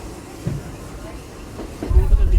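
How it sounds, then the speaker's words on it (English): Theme park train ride at Magic Kingdom, Walt Disney World, a steady rumbling rolling noise with a few soft clunks and a heavier low rumble building at the end, heard from aboard. "I love riding this train, guys."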